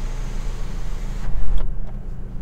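An electric sunroof on a Honda CR-V 2.2 i-CDTi Executive tilts, closes and slides back, its motor hum sitting over a low cabin drone, with a brief click and a quieter stretch near the end.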